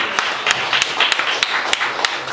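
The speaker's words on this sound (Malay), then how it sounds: "Tepuk tangan lagi sekali lah untuk Tuan Haji." An indoor audience applauds a guest at a talk show, with a steady wash of clapping and sharp rhythmic claps standing out at regular intervals, all close and fairly loud.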